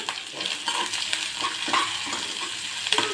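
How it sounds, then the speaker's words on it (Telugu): Chopped onion and green chillies, lightly salted, sauté in a pan with a continuous sizzle broken by repeated stirring scrapes and light clinks of a spoon against the metal, close and fairly loud. "ఇలా చిన్నగా కట్ చేసుకున్న ఆనియన్ వేసుకుని ఇలా మగ్గించుకోవాలి"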